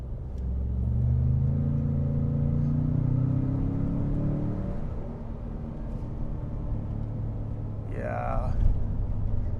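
A 2025 Ford Expedition's turbocharged engine accelerates on a hot day, a deep, rising rumble that climbs in pitch for several seconds inside the cabin, then settles into a steady drone with road noise, and a voice briefly speaks.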